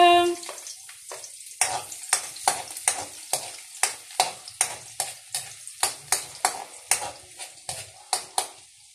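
Garlic hits a hot wok and sizzles loudly, with a quick run of sharp, evenly spaced scraping strokes as it is stirred, close and alone with no talk.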